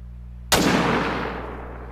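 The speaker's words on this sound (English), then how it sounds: "I don't know what happened that last shot" One loud hunting rifle shot cracks out in theHunter: Call of the Wild, sharp and sudden, followed by a long rolling echo that fades slowly over a low steady hum.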